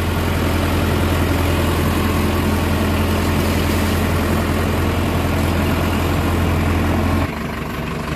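An Indo Farm 3065 DI 65 HP tractor engine running steadily with a loud, continuous diesel drone and a strong low hum, close by, then dropping slightly in level near the end.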